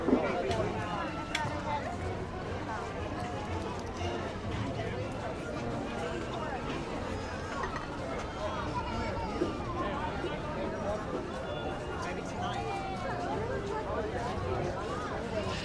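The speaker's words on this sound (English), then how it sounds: "We're gonna wait till the crowd thins out." Dense crowd chatter fills a busy walkway at Magic Kingdom park, Walt Disney World, a steady overlapping hubbub of many voices, near and far, running without pause.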